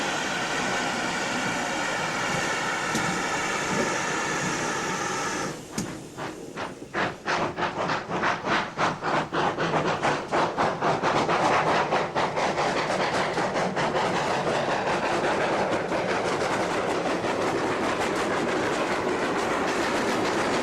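A GWR steam locomotive running on rails gives a steady hiss, then a loud, rhythmic clickety-clack of wheels over rail joints that continues close by for the rest of the stretch.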